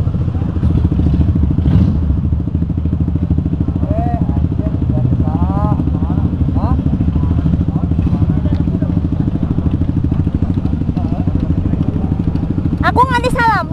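A motorcycle engine drones steadily throughout during a Sunday-morning group ride, with people talking over the continuous rumble and a few brief higher tones near the end.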